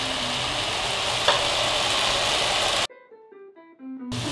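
A hot pan fries steadily with loud, close crackling as sugar, white and black salt, a cinnamon piece, cumin and black pepper go in for a beet and tomato soup, with a brief break of music near the end.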